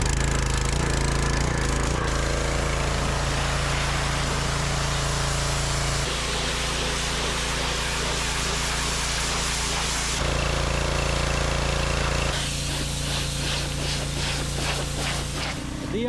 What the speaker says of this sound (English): To seeing that pressure washer go on these old dirty rocks.